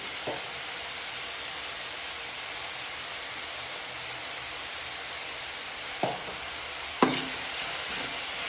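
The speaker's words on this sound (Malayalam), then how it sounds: "ഇത് നന്നായിട്ട് ഇളക്കി" Spinach and jackfruit seed thoran is stirred in a hot pan. A steady, even sizzle runs throughout, broken by a couple of brief spoon knocks against the pan.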